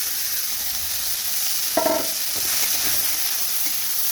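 Kalmi greens fry in hot oil in a wok with panch phoron, dried red chillies and garlic, a steady close sizzle with a brief louder crackle partway through.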